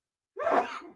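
A single sneeze bursts out at close range after a brief silence, sharp and breathy with a short trailing exhale, heard on its own during a sports talk show.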